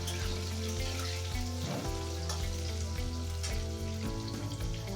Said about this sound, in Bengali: সেই জন্যই আলুটাকে প্রথমে ভেজে নিতে হবে